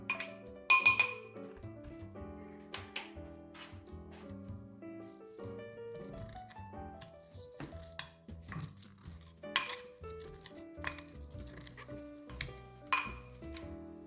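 Fruit is mashed with a potato masher in a glass dish, giving sharp clinks and taps of metal against glass in uneven bursts, close and quiet, separated by short pauses.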